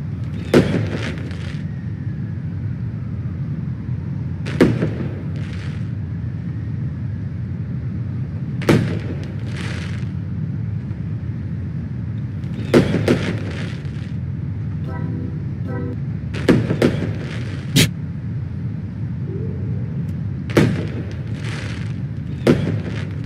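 Sharp firework bursts in the video game PlayStation Home pop at irregular intervals, about ten cracks over a steady low hum, some in quick pairs, with no talking.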